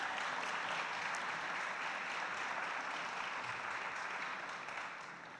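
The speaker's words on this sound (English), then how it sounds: "clap for that." A crowd claps steadily before a Framingham mayoral debate, a dense, even wash of applause that holds for about five seconds and eases slightly at the close.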